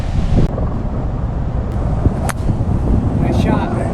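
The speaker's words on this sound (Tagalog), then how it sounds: "Lakas ang hangin." Steady roar of gusting wind buffeting the microphone outdoors on a golf course, loud and continuous, with faint voices underneath.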